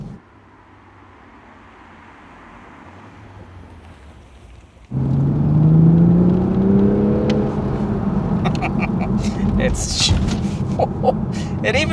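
A 3-litre petrol Toyota Supra revs hard and accelerates after a quiet opening, its engine note rising loud and close, with speech over parts of it.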